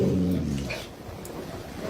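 A dog growls low and steady, then breaks into a brief high whimper, close and fairly quiet, with nothing else around it.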